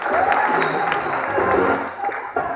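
Crowd applause and cheering at a bull circus, brief and moderately loud, blended with voices and a whistle-like tone.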